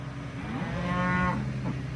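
Cattle on a farm give one long, loud moo close by, with a quieter lowing call trailing after it.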